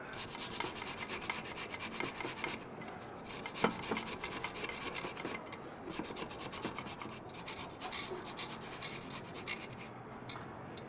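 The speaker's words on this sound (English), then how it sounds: "And then you can grate your next carrot." A carrot being grated in a home kitchen, a steady rough rasping scrape that repeats in quick strokes for the whole stretch, close and moderately loud with no talking.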